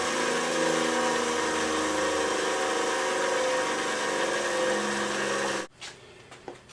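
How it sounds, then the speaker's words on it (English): A bench grinder grinds a secondary bevel on an edge tool, its steady loud whine running unbroken for nearly six seconds before cutting off abruptly, leaving a few faint knocks and clicks. "I simply move it forward in the notch and grind it away, and that gives me the secondary bevel"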